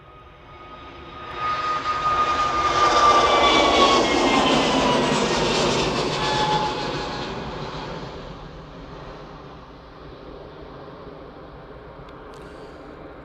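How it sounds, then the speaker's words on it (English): An easyJet Airbus A320neo jet departs for Tenerife South, its engine roar swelling to a loud peak, then fading slowly into the distance, with no speech. "easyJet A320neo off to Tenerife South."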